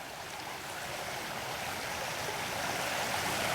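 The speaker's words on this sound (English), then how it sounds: "You can see the water down there flowing strongly." A flooded creek flowing strongly at night, a steady broadband rush of water heard from up on the bank, constant and unbroken with no voices.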